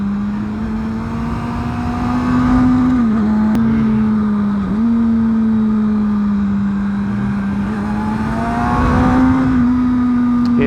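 A 1000cc motorcycle's engine drones loudly and close as it pulls out of corners, its steady tone dipping and rising slightly as the throttle changes, with wind noise around it.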